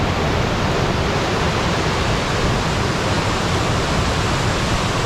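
River rapids pour over rocky ledges in a wilderness river, producing a steady, loud roar of rushing whitewater with no breaks and no voices.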